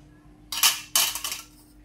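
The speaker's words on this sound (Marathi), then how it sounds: "अशा प्रकारे सर्व ब्रेड्सवर स्लाइसवर मी चीज किसत आहे" Cheese being grated onto bread slices, two quick, bright rasping strokes against a metal grater, close and clear in an otherwise quiet room.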